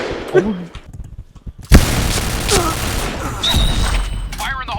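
Rapid gunfire bursts in the shooter game Point Blank crackle loudly and close, overlapping with excited shouting from players throughout.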